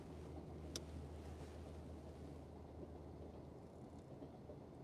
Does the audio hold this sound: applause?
no